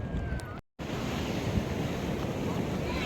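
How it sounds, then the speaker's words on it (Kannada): Sea waves at Ullal beach, Mangalore, wash in as a continuous broad rush mixed with wind buffeting the microphone, cut by a brief silent dropout near the start before the surf resumes. "ಇಲ್ಲೇ ಸಖತ್ ಅಲೆ ಬರ್ತಿರೋದು."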